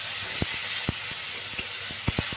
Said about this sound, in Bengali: আদা বাটা, টমেটো একটু পেঁয়াজের সাথে ভাজা ভাজা করে নিচ্ছি